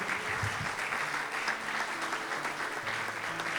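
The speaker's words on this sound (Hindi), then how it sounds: "जोरदार तालियां एक दफा फिर।" Warm congregation applause at a church child dedication service, a continuous hall full of clapping with a low hum or music tone running beneath it.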